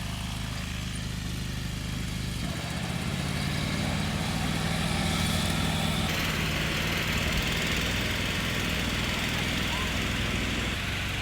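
A lawn mower mows a homestead pasture, its steady engine drone running close and loud throughout, with a rougher, heavier tone setting in after the first couple of seconds.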